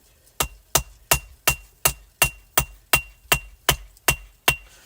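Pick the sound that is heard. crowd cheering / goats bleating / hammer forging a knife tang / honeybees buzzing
hammer forging a knife tang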